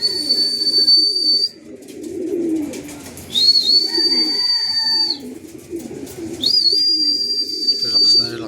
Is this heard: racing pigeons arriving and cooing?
yes